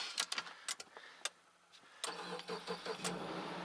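A Subaru Outback engine cranks and catches after a few sharp clicks and clunks, then settles into a steady idle close by, with no one talking.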